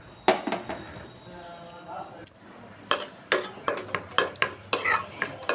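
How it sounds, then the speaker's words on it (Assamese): Wheat flour is dry-roasted in a wok for atta laddoo, with rhythmic scraping and clinking strokes of a spatula against the metal. A voice speaks briefly early on. "এতিয়া কেৰাহীটোত মই 1 কাপ আটা দি ভাজি লম।"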